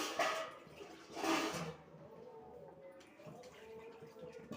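Water is poured into a tamarind fish curry in a pot in two short, close splashing gushes, followed by a quieter, low bubbling simmer.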